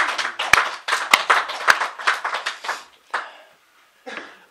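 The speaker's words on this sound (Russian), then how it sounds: "давайте предварительно похлопаем Иисуса Христа" A church congregation applauding together, a quick run of loud, close sharp claps that fades out, then a short final burst of clapping after a brief pause.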